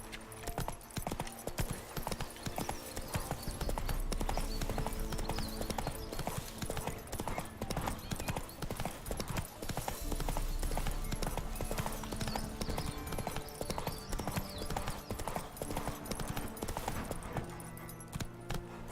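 Roach, a horse in The Witcher 3 video game, trots along with rapid continuous hoofbeats at moderate distance, overlaid by game ambience throughout.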